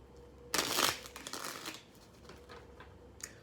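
A deck of tarot cards is riffled in a quick, crisp burst of shuffling, followed by softer card slides and taps, close and fairly quiet.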